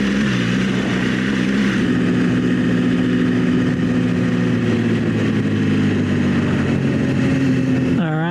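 An adventure motorcycle on Bridgestone AX41 adventure tires drones along a mountain road, its engine note holding steady then shifting as the rider drops into a lower gear, loud and close throughout.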